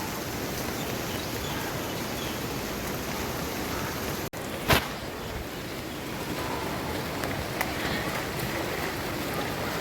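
Heavy monsoon rain pours steadily over a waterlogged housing society, a dense constant hiss with a brief sharp knock partway through and a faint voice underneath.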